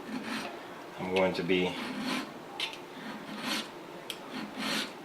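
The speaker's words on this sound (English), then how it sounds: "filing, keeping my file as level as possible." A flat file rasps across the steel trigger guard of a 1911 pistol in a few short, scraping strokes, with a brief spoken phrase at the start.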